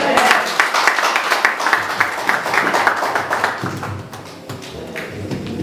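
A church congregation applauds, clapping dense and fairly close at first, then thinning and growing sparser, with voices heard underneath.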